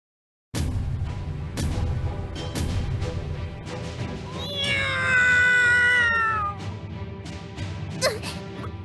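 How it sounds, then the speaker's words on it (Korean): A cat meows in a long, wavering, strained cry over a busy battle scene in the mobile game Trickcal Revive, loud and close amid sharp hits and clatter. "뭐야? 이 고양이 소리는..."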